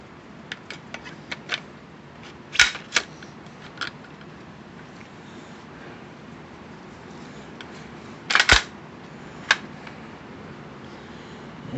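Reinstalling the barrel on a Citadel shotgun brings scattered light clicks and two sharper metallic clacks of parts seating, set apart by quiet handling.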